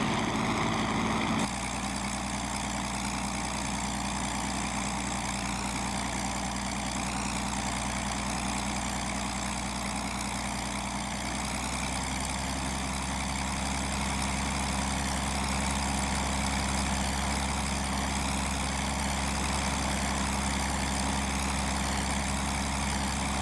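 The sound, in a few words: Curtiss P-40E Warhawk engine running, propeller at 2,500 RPM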